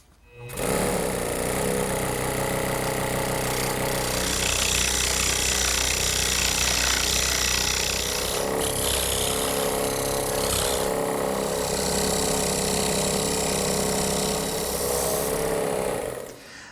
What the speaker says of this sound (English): I've completed all the work with the saw blade.